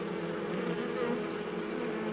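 Bees buzz steadily while feeding on sweet food at a dish set on coloured squares, a soft continuous hum of many insects close by.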